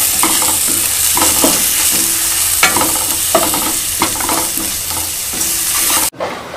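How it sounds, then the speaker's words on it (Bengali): Spice masala with chilli powder and salt frying in a pan for egg chops: a loud, steady sizzle runs throughout with repeated scraping stirs, close up, then cuts off abruptly near the end, with no speech. "আমি ভালোভাবে মশলাটাকে 5 মিনিট ভেজে নিলাম।"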